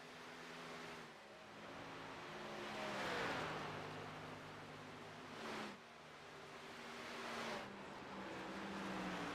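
A race car in an AARN O'Reilly's Series race at Texas climbs back up to speed after a pit stop, its engine note rising through several gears in overlapping whooshing sweeps, steady and mid-distance with a hissy broadband background.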